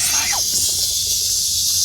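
A large Korean cicada (말매미) held in the hand gives a harsh, continuous, close buzzing hiss, with a brief chirp-like sound near the start.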